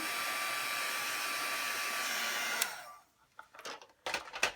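A hair dryer blows steadily to dry a paper craft card, then cuts off, leaving a few soft handling clicks and rustles.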